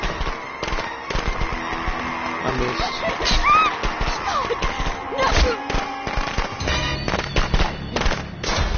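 Bursts of popping firecracker blasts and crackling explosions in the video game Friday the 13th, dense and loud, with someone briefly speaking over them.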